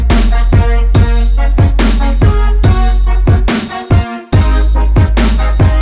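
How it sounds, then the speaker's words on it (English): A snare pattern cracks in a steady rhythm over a loud, dense hip-hop mix with deep bass, and there is a short dropout near the end. "Then we're adding in two different snares."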